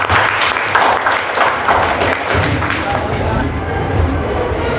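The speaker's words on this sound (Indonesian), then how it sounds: "Tepuk tangan untuk kita semua." Dense, steady applause from a classroom of students, a continuous close clatter of many hands with some room echo and no pauses.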